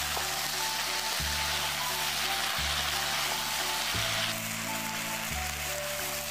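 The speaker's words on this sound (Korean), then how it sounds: "홍고추, 꽈리고추를 넣고 볶음을 합니다." Pork stir-fry sizzling in a pan over a gas flame with onion, red chili and shishito peppers, a steady dense frying hiss with faint periodic low knocks from stirring, close and continuous, with no talk.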